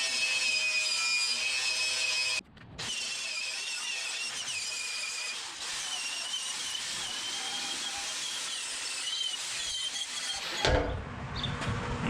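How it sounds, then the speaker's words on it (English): Angle grinder working over a steel vehicle frame full of nooks, a loud sustained squealing grind that cuts out briefly near the start and drops away at the end, with no talking. "I've been grinding with that damn thing all day"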